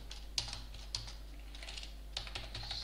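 Code is typed on a computer keyboard in a handful of soft, close key clicks spaced irregularly over a low steady hum, with no talk.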